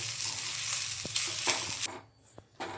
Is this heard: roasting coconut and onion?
yes